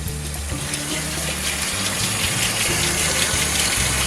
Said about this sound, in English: I'm going to add a little bit of cold water